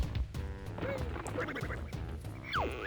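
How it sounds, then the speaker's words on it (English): Squawking, quacking bird cries from the bird bazooka in a video game, several quick honks and squeaks layered over busy game sound effects and music, fairly close and moderately loud. "This is the bird bazooka."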